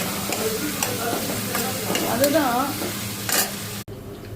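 Two chopped onions fry and are stirred in a pan for malai mutton gravy, a steady close sizzle with scraping strokes, and a voice briefly says a word partway through.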